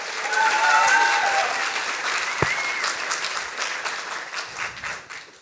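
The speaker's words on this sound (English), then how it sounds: "Big applause for Alice Podesta." A science slam audience in Berlin applauds loudly for the next speaker, a dense burst of clapping that swells at the start and slowly thins toward the end, with a few faint voices and whistles mixed in.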